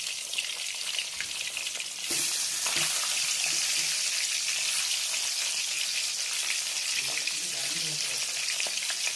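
Loud, dense crackling and hissing of parshe (mullet) fish frying in hot oil, continuous throughout, growing slightly stronger after the first couple of seconds.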